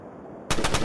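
Gunfire erupts in a World War 2 action shooter, a sudden loud burst of rapid machine-gun shots after a quiet stretch, cutting in sharply and continuing to the end.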